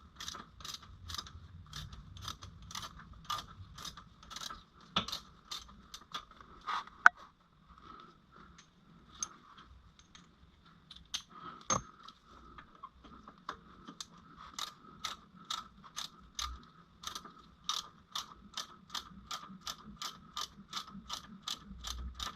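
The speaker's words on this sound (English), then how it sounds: "loosen and remove the pinion shaft lock screw, which will allow me to remove the pinion shaft" A hand ratchet loosening the pinion shaft lock screw on a Jeep Dana 35 axle during a regear, with rapid clicking strokes in steady bursts and brief pauses between them, close and distinct in a quiet garage.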